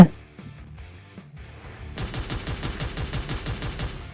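Rapid bursts of gunfire in the Free Fire mobile game crack out in a steady rhythm over the back half, following a quieter stretch of game ambience and music.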